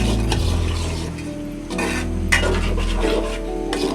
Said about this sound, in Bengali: কষাইতেছি ডাল দিয়ে ভালোভাবে